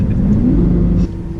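Lamborghini engine rumbling loudly in neutral, a deep throaty revving burst that cuts down abruptly to a lower idle after about a second.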